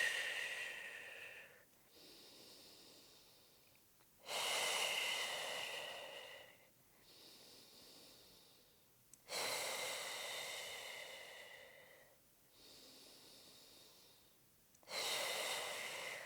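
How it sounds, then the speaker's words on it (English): Slow, deep breaths during a pregnancy pelvic floor stretch, long airy inhales alternating with softer exhales in about three full cycles, close and quiet, with no talking. "So really inhaling down and then exhale to lift."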